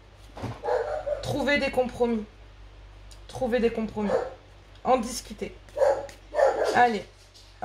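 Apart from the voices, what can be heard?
dog barking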